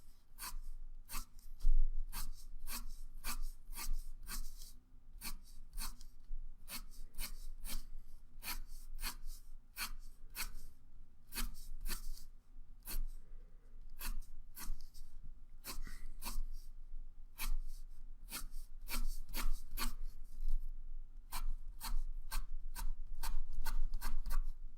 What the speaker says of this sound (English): we're going to go ahead and draw the same type of lines across